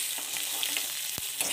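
Green chilies and onion sizzle in hot oil in a pan, a close, steady hiss of frying with a soft stirring knock partway through.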